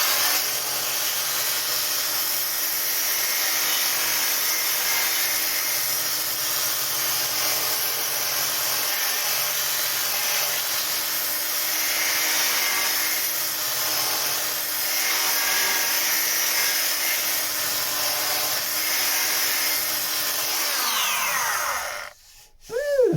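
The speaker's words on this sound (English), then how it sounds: "I can get the flat sander on that." A power sander works across a wooden boat deck with a steady, even whir for about twenty seconds, then winds down and stops abruptly near the end.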